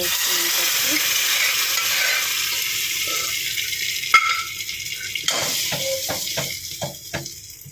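Tempering spices frying in hot oil for a Telugu mango dal, a steady broadband sizzle filling the first half and then thinning into scattered pops and spoon clatter, close and moderately loud with no talking.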